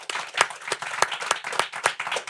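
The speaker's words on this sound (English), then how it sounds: "I want to encourage everyone to give a round of applause to Governor Gianforte" Scattered applause from a small audience, with individual sharp claps standing out over a lighter patter, fairly close.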